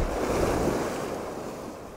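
Sea waves break and splash against a shelf at Waxham beach on the north Norfolk shore, a loud rushing surge up close with wind buffeting the microphone, easing slowly.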